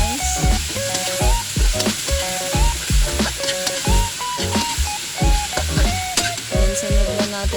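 A spoon stirs and scrapes through a coconut milk stew with squash in a pan, giving repeated knocking strokes over a gentle sizzle, steady and close.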